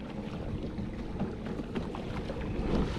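Motorized kayak riding over rough ocean waves, a steady broadband rumble of hull and water with wind noise, loud and continuous with a slight swell toward the end.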